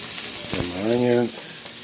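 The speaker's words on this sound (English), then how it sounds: "Lots of onions. Really good. Get them stirred around about 3-4 minutes till translucent." Chopped onions sizzle and crackle in a hot pan as they are stirred, a steady close frying hiss with a voice briefly speaking over it partway through.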